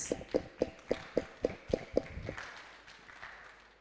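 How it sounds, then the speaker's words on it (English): A short burst of about eight sharp, evenly spaced claps rings out at a school Independence Day celebration for Nigeria, then fades into a quiet room. "Let's give Nigeria a round of applause."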